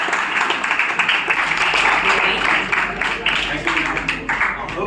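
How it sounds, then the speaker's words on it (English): Sustained applause from an audience fills the hall after an Indian Navy lecture at KV 2, Jhansi, a dense, steady wash of clapping lasting the full stretch, with a voice faintly mixed in. "Big round of applause, sir"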